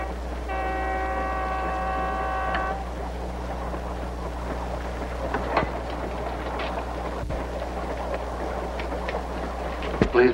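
A passenger train rolls along the tracks with a steady low rumble and a brief horn-like tone near the start, plus faint clanks and rattles through the ride.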